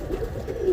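A roller pigeon that landed after being flown gives soft, low cooing calls, faint and close, with a quiet ambient background and no talk.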